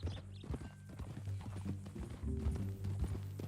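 Horse hooves clip-clop at a steady walking pace in Red Dead Redemption 2, the muffled, fairly quiet footfalls repeating over a low background rumble.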